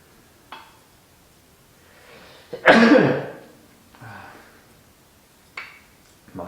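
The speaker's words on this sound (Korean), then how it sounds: "마스크를 꼈는데 왜 재채기를 하지?" A single loud sneeze from a person wearing a face mask in a sculpture studio, muffled and close, with a few small clicks and rustles before and after.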